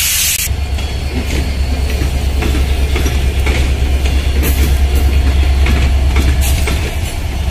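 A loud express train, the Barendra Express hauled by locomotive 6620, rumbles past close by as it departs Parbatipur railway junction in Bangladesh, with a deep steady roar, hissing and faint clattering of wheels on track.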